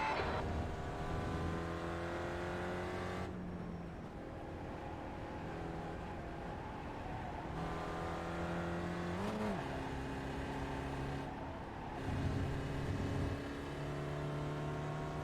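An SCCA Spec Ford race car at Lime Rock Park, heard from inside, engine loud and close, revving hard, dropping sharply on braking and downshifts, then climbing again through the gears, with no talk.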